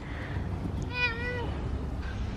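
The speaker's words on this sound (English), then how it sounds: "Who's a happy cat? You're a happy cat." A pet cat gives a single rising-and-falling meow, clear and close, with quiet room noise around it and no talking.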